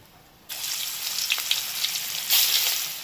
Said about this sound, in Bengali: এবার বাকিগুলো ভেজে নিই